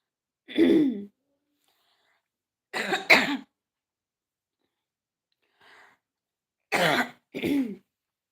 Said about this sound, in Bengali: হঠাৎ কাশি শুরু হয়ে গেছে